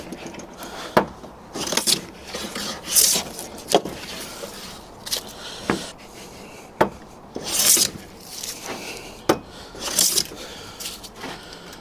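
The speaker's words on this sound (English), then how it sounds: "A little bit face planing." A hand plane face planing a wooden board on a sawhorse workbench, giving irregular bright rasping strokes of varying length over a low background, close and moderately loud with no talking.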